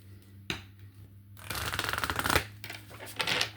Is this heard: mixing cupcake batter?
no